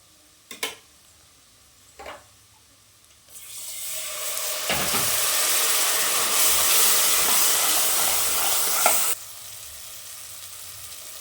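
Mutton with masala sautéing in hot oil: a few light taps, then a loud, steady sizzle that runs close for several seconds before cutting off abruptly.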